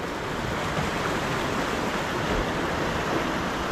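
Turbulent sea water with a strong current off the Kokan coast, heard as a dense, continuous roar of churning waves and rushing water at a steady loudness throughout, with no voices.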